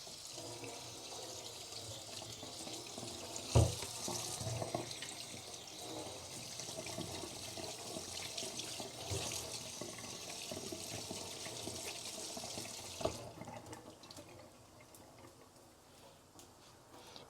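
Kitchen tap water running steadily into a sink while food is rinsed, a soft continuous splash with a couple of brief clunks, fairly faint and tapering off near the end.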